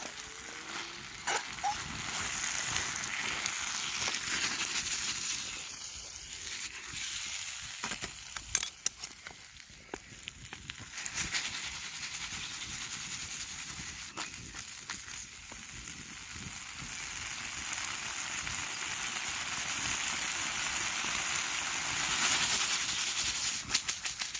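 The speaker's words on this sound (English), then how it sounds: "I'm just wanting to give it one last good blast of heat, just so I know that pork is really ready to eat." A pork sweet and sour stir-fry sizzles over an outdoor campfire with a loud, continuous hiss and crackle, and occasional sharp pops and utensil clatter break through the steady frying.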